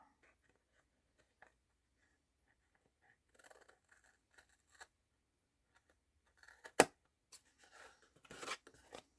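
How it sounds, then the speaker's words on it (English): Scissors snipping through material, a few scattered quiet cuts and rustles with a louder sharp snip and a short burst of crunchy cutting near the end, close up and otherwise near-silent. "I'll cut this off"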